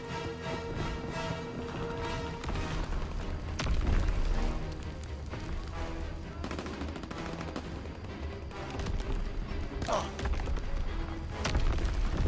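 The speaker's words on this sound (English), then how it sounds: "Allied cruise missile away." Cruise missile strikes in Call of Duty: Modern Warfare 2019 give repeated heavy booms and thuds layered with rattling gunfire throughout, loud and close, with game voices speaking over the battle.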